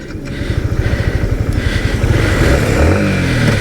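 Yamaha MT15 V2 motorcycle pulling away and accelerating, its single-cylinder engine close and loud, pulsing rapidly and rising steadily in pitch, with no talk.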